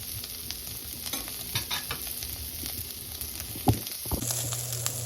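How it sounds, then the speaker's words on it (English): Longaniza sausage fries crispy in its own rendered oil for Dominican locrio, a low constant sizzle with occasional spatula scrapes and a sharp clack near the end. "make sure that the longaniza is nice and crispy. It's going to give off its own oil, so don't worry about putting no oil in the pan."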